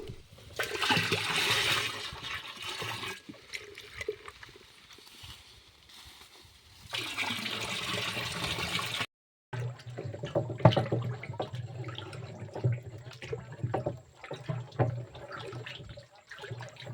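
Dissolved jaggery water poured into a drum, a splashing liquid pour in two bursts that breaks off, then gives way to lighter trickling and splattering, with no talk.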